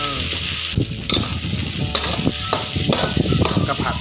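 Shrimp fried rice being stir-fried in a hot pan, with a loud, close sizzle broken by repeated scraping and tossing strokes of a utensil in an uneven rhythm.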